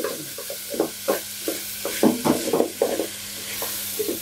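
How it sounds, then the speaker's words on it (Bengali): Broken rice fries in a pan while it is stirred, giving a series of rough, close scraping strokes in an uneven rhythm over a low, constant sizzle. "এখন তো চালটাকে আমি খুব সুন্দর করে ভেজে নিচ্ছি।"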